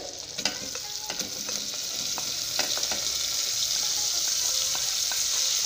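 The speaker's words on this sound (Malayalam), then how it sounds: "അപ്പോൾ 3 വലിയ സവാള കട്ട് ചെയ്തതും കൂടി ഇതിലോട്ടേക്ക് ചേർത്ത് കൊടുക്കുന്നുണ്ട്" Sliced onions frying in a pan as a base for butter chicken, a constant hissing sizzle with clicking stirs and scrapes, growing slightly louder, with no speech.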